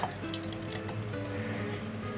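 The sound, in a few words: pouring cooled pumpkin soup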